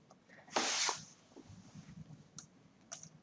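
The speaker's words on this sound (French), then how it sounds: "Alors, elle a éternué." A woman's single sharp sneeze from someone who has a cold, bursting out loudly indoors in a living room, followed by a few faint clicks and small rustling sounds.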